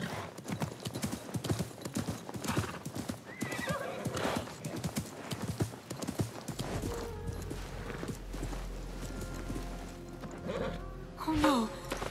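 Horse hooves clip-clop steadily and the horse neighs loudly near the end, in the Assassin's Creed Mirage video game, with breathy vocal sounds in the mix.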